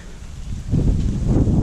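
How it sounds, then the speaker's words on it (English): Wind buffets the microphone with a steady low roar that grows stronger and gustier partway through. "So, pretty windy today."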